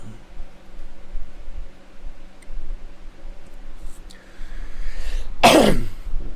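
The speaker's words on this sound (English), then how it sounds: "That was just me coughing." A single sharp cough from a person close by, loud and brief, near the end of a quiet stretch with faint room noise and no talk.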